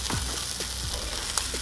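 Frozen Angus Bubba burgers sizzle on a cooktop with a steady, close frying hiss and occasional small pops and crackles throughout.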